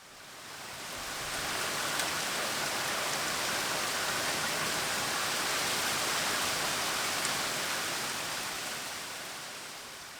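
Rain from a summer evening storm pours steadily as a dense, even hiss that swells in and fades out over about ten seconds, with no voices.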